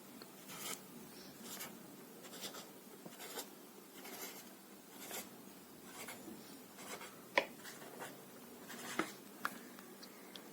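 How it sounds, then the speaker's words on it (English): A pen writes numbers on paper in short scratchy strokes, repeating in a steady rhythm close up and fairly quiet, with a few sharper taps between strokes. "Then we will write 0 to 8 even number from bottom to top."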